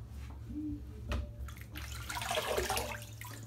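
Water running and splashing as a face is wetted at a sink before a shave, a close, moderate wash of sound that swells toward the end, with no talking.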